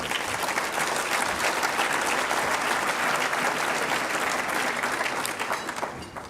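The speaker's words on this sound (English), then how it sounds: "give ourselves a round of applause for the work that we're doing in international development" Audience applause at the SID Washington 2012 general session luncheon, a dense, steady roomful of clapping that holds for several seconds and then tapers off at the end.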